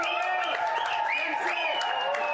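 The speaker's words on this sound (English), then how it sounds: "Listen to the crowd. They're celebrating in the stands here" Cricket crowd in the stands celebrating the Hurricanes being bowled out against Nepal, cheering and applause layered with whistles and wavering shouts, near and loud throughout.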